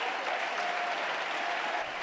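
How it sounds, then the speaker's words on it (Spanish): A sustained ovation in the Spanish parliament, dense continuous clapping from a large crowd of deputies, steady and even throughout. "Ovación que ha superado los 2 minutos"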